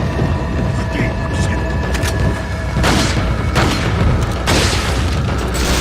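Thrown explosives in Resident Evil 4 burst with heavy booms, several in a row over a dense, loud game soundscape, with a voice talking underneath.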